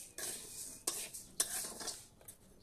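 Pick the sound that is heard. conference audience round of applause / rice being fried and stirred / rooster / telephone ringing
rice being fried and stirred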